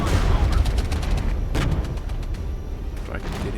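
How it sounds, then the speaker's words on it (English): Bombs striking units in a war video game, dense rumbling explosions and crackling gunfire layered continuously, with a voice talking over the battle. "Oh, getting hit with bombs"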